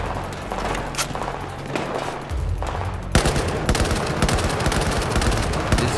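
Gunfire in the Battlefield 4 video game, a loud close stream of rapid automatic shots that grows denser and steadier halfway through, with game effects underneath and no clear talk.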